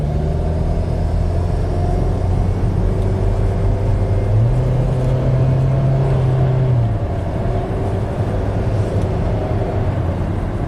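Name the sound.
Acura turbocharged car driving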